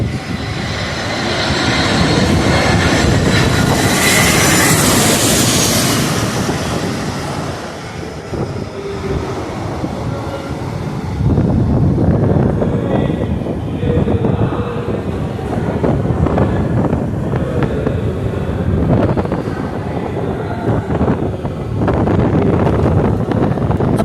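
An airplane comes in to land at an airport, heard from a spot outside: a loud, sustained jet roar that swells, dips briefly, then surges again and keeps rumbling.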